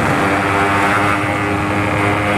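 A two-stroke motorcycle engine, ridden hard at full throttle on a night ride to Bogor, roars loudly and continuously with a dense, droning buzz and no talk over it.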